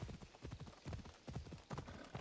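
Horse hooves clip-clopping in Assassin's Creed Odyssey while riding, a quick repeating four-beat rhythm of soft thuds, close and fairly quiet, alone.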